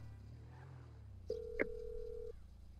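A phone call is dialed in GTA 5 Online, with a single short keypad tone followed by a steady ringing tone held for about a second, faint against quiet game background hum.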